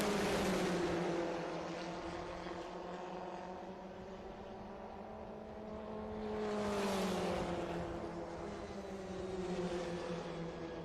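Formula race cars (F1600, Formula Atlantic, FE2) climb the hill side by side at Watkins Glen, engines droning steadily, then a second wave of loud, rising engine noise swells past around the middle before easing.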